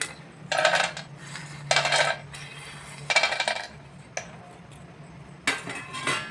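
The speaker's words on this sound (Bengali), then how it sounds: "এর জন্য প্রথমে আমি বাদাম দিয়ে দিচ্ছি" Peanuts are poured onto a puja offering plate in four or five brisk rattling bursts, each a clattering shower of small hard pieces landing on the plate, close and fairly loud against a quiet background, with no voices.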